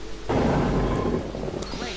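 Thunderstorm in the park-building video game Jurassic Park: Operation Genesis on Storm Island, a sudden loud rumbling thunder crash that rolls on and slowly fades over a couple of seconds, with rain underneath.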